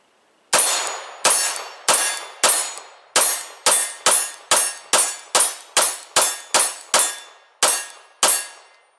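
A Beretta 92 pistol fires in rapid succession, about sixteen sharp, loud shots at a fairly even pace, each ringing off briefly before the next, with no talking.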